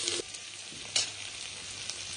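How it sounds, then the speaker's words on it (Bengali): Ridge gourd frying with potato and onion in a pan gives a soft, steady sizzle with a few light stirring scrapes, heard close and fairly quiet over a short stretch. "ঝিঙাটা দিয়ে একটু হালকা নাড়িয়ে চাড়িয়ে দেবো।"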